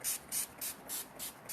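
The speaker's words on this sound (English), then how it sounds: "One more thing. Setting spray." Makeup setting spray misted over Halloween face makeup in a quick series of six short, evenly spaced hissing spritzes, close and fairly soft, with no talking.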